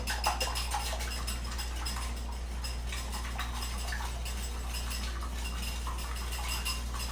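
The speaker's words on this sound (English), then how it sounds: "we're just whisking up the egg" Eggs whisked in a bowl, a steady run of quick light clinks and taps from the whisk against the dish continuing without pause at close range.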